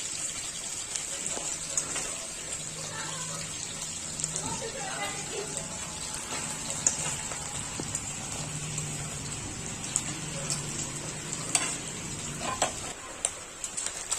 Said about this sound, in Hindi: एक साइड से लाल हो चुका है, दूसरे साइड से लाल कर देंगे इसको। अच्छे से तल लेंगे लाल होने तक